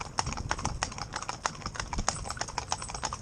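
Hooves of young, green horses pulling a four-in-hand carriage, a brisk, uneven clip-clop of many hoofbeats on a hard surface, close and steady throughout.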